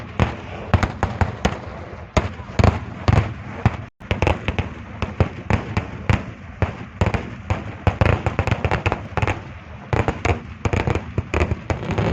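Fireworks burst at a Kerala Pooram festival in a rapid, irregular barrage of sharp cracks and bangs, loud and close, with crackling between the blasts.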